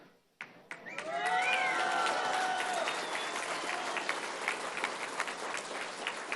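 A crowd applauds at an outdoor political rally in La Montaña de Guerrero, a dense, sustained wash of clapping with a few cheers and whistles near the start, steady and loud throughout.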